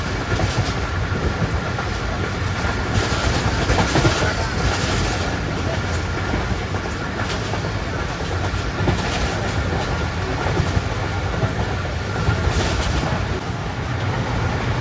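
Inside the moving Allama Iqbal Express in Pakistan, a loud continuous rumble of rolling wheels and carriage noise fills the space, with recurring clickety-clack over the rails, near and sustained.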